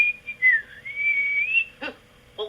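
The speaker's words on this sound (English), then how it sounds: "he began to whistle" A person whistles a wavering, sustained tune, followed by a few short breathy noises.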